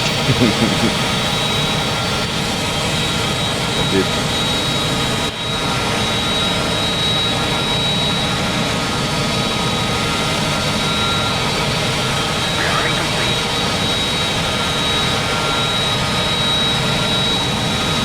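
Jet aircraft engines roaring steadily as a plane prepares to launch from a carrier deck in the DCS flight simulator, a loud continuous drone throughout with only a brief dip partway.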